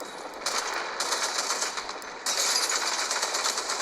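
Rapid automatic gunfire from the mobile shooter game Apex Legends Mobile comes in dense, rattling bursts. A short lull falls between two loud strings of shots.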